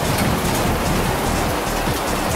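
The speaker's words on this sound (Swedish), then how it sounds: "kolla på det här jävla haglet!" Heavy hail and rain hammer down during an extreme storm with a tornado in Linköping, Sweden, a dense, continuous roar of impacts close by and loud throughout, with no talking.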